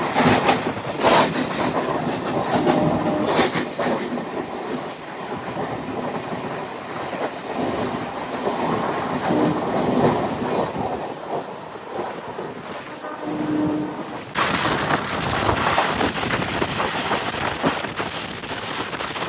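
An Anantapur–KSR Bengaluru MEMU passenger train rolls along the rails, a loud continuous rumble with rhythmic wheel clatter, heard from on board and shifting in tone partway through.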